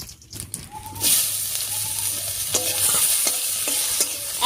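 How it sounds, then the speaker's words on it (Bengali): Chopped onion hitting hot oil with whole garam masala, bay leaf and cumin tempering, frying in a pan for a Bengali soybean curry; steady close sizzle with stirring scrapes and clinks, no speech. "এবার এর মধ্যে দিয়ে দিচ্ছি পেঁয়াজ কুচি।"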